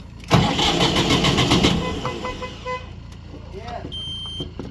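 A diesel tractor engine cranks and catches, running loud and rough for about two seconds before settling into a quieter idle, with a faint tone near the end.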